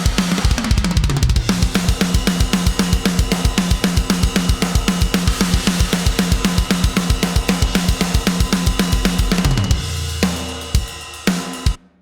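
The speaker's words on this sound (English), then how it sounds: "how cool is that you just load up drums and it sounds like this" A sampled drum kit plays a steady, driving beat with punchy kicks, snares and bright cymbals for about ten seconds before ringing out.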